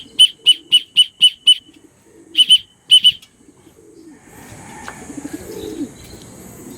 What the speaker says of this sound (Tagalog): Pababain na muna natin mga kalapatids.